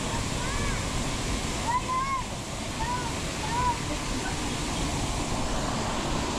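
Cambugahay waterfall on Siquijor Island in the Philippines, a steady broadband roar of falling water that fills the whole clip, with faint voices and brief high chirps over it.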